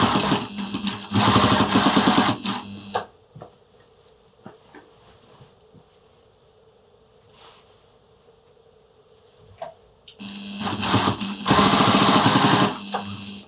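A sewing machine fitted with a walking foot stitches binding onto a quilt in two loud fast rattling runs, separated by a quiet stretch with faint handling clicks.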